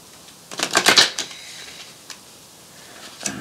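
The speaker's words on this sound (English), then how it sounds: "Shuffling the wrong way." Tarot cards shuffled in a quick burst of crisp riffling flutters, followed by a few faint isolated taps and rustles, close and otherwise quiet.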